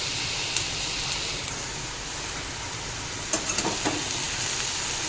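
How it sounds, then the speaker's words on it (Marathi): Bitter gourd pieces sizzle in a hot wok with salt and oil, giving a steady, even hiss of frying throughout, with a few brief clinks near the end. "त्या कढईमध्ये आपल्याला कारलं घालून घ्यायचं"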